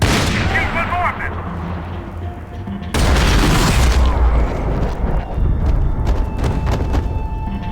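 Gunfire in Max Payne 3: heavy booming shots and a sudden loud barrage of rapid, dense firing, with in-game voices heard among the blasts.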